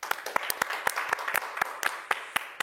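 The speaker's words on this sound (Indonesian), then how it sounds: "Boleh minta tepuk tangannya?" A small group clapping for a guest on an Indonesian talk show: sparse, distinct, close claps in an uneven rhythm for a few seconds, with no speech.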